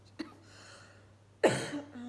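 A single sharp cough from a long-ill woman bursts out close by, preceded by a small throat click.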